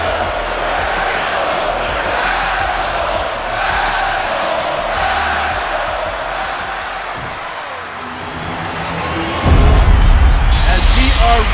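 A wrestling show crowd sends up a loud, sustained roar of jeers and cheers toward a wrestler, swelling sharply near the end, with an announcer talking over it.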